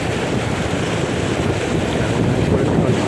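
Strong wind buffets the microphone outdoors by the water during a fishing trip on a lake, a steady loud roar with water and wave noise mixed in throughout, no pauses and no voices.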